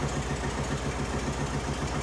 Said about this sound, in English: It idles great.